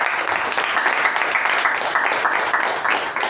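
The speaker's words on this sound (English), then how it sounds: "Let's hear a good round of applause." Audience applause at a club meeting, a steady dense wash of clapping from many hands that carries on evenly throughout with no voices over it.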